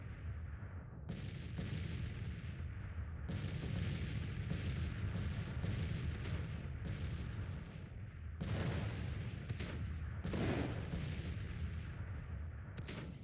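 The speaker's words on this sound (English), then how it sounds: "the 12-pound Napoleons make short work of this" Twelve-pound Napoleon cannons firing in the Grand Tactician: The Civil War strategy game, repeated heavy booming artillery shots with sharp cracks at irregular intervals, layered over a continuous rumbling battle din.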